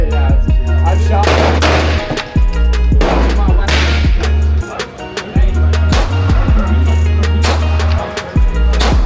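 Close, loud pistol shots from an FN 509 Tactical crack out on an outdoor range, several in quick succession with short pauses between strings.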